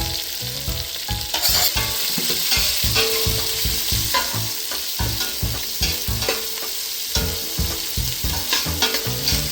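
Sliced onion and green chillies sizzle steadily in a hot pan of oil for a nati-style chicken biryani, with a dense continuous crackle and repeated close scrapes and stirs of a spoon throughout.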